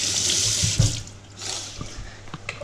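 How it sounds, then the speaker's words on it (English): Celery stalks rinsed under a running kitchen tap, water splashing steadily into the sink for a few seconds with brief surges as the stalks move through the stream. "Give them a good old rinse under the tap."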